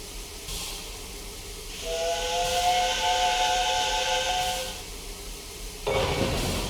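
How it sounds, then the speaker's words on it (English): A steam locomotive lets off steam with a long loud hiss and a sustained whistle-like tone lasting a few seconds, then the hiss resumes briefly near the end, with no talking. "And Gordon puffed away in a dignified manner."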